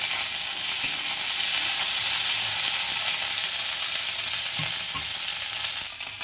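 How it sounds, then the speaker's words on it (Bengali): Food being stirred in a pan over a gas flame turned down low, a steady soft sizzle with faint scraping throughout, fairly close and without talk. "একদম গ্যাসটা সিমে রাখতে হবে। জাস্ট একটু নেড়ে নিতে হবে।"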